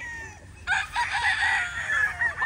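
Gamefowl roosters of the Sweater Roundhead and Sweater Kelso lines at a game farm, one close, loud crow rising and holding over a faint background of other birds.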